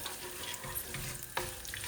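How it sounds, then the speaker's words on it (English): Curry leaves and black mustard seeds sizzle in hot oil in a pot, a close, crackling frying hiss with a few sharper pops and faint stirring sounds. "Just going to let them sizzle and release their flavors in the oil."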